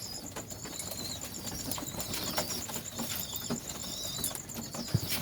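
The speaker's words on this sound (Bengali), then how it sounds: "ফ্লাইং পায়রা" Flying pigeons flutter their wings in soft repeated flapping bursts close by, with faint cooing and light rustles over a quiet background.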